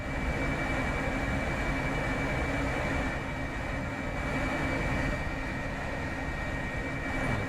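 An F-35B Lightning jet engine in Microsoft Flight Simulator 2024 gives off a steady, broad, roaring rumble with a thin whining tone, continuous and fairly faint, with no voices.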